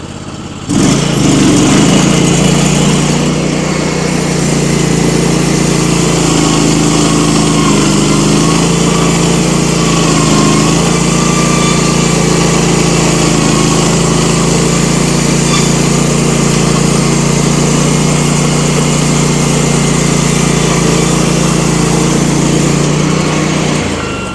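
A sawmill running a brand new blade through a pine log, a loud steady engine drone with a high whining saw tone holding continuously throughout, close by and with no talk.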